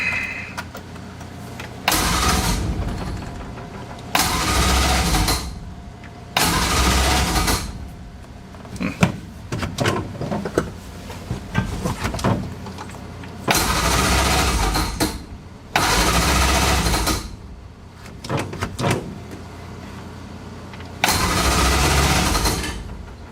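An old Crosley car engine cranks indoors in a series of about seven separate bursts, each lasting one to two seconds with short pauses between them. The loud, close mechanical churning never settles into a steady idle.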